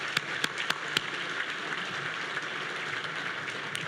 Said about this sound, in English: Let's give all of our mayors a round of applause.